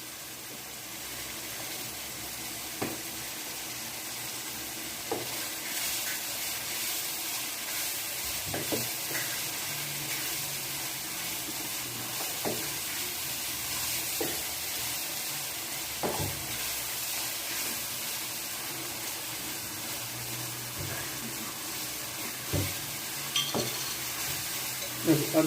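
Cumin seeds sizzle and crackle steadily in hot oil for aloo chicken masala in a desi kitchen in Pakistan, a continuous frying hiss broken by occasional stirring clinks, fairly loud and close with no talking.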